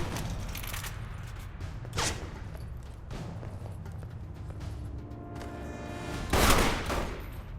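Video game gunfire from Alpha Protocol: sporadic single shots spaced a few seconds apart over steady game ambience, with a louder, closer burst toward the end.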